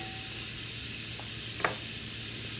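Omelette eggs sizzle steadily in a frying pan, a close continuous hiss broken by a brief scrape and clack as a utensil moves them around.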